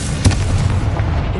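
A Confrito spell blast in the Hogwarts Legacy video game lands as a sharp boom near the start and trails into a low rumble beneath continuous game ambience.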